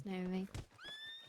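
A horse whinnies in a roleplay video game, a clear, loud neigh at the start, with speech over it and a second rising whinny near the end.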